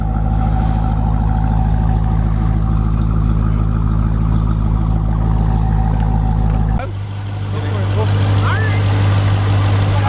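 The 6.2-liter supercharged 707-horsepower V8 of a Jeep Trackhawk idles with a loud, steady low drone and a thin whine, then drops to a deeper, quieter hum partway through.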